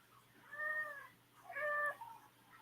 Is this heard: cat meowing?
yes